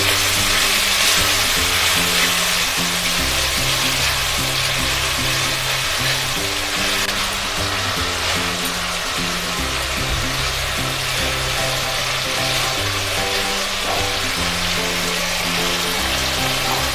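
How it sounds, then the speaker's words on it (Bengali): Ground tomato paste sizzles and fries steadily in a hot pan, with a continuous crackling hiss and occasional scraping of a spoon stirring it. "এবার আমি এতে টমেটো বাটাটা দিয়ে দিচ্ছি, দিয়ে ভালো করে নেড়ে মিশিয়ে নেব।"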